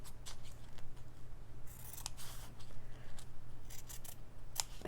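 Fabric squares are snipped with scissors in a run of sharp, close cuts at an uneven pace, with no voices.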